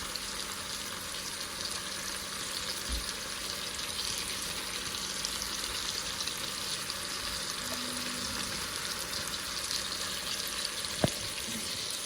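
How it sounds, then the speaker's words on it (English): Steady, even sizzling of sauce with sausages frying in a pan on a stove continues throughout, with a faint clink or tap near the end. "You can see my sauce frying very well with my sausages on my stove."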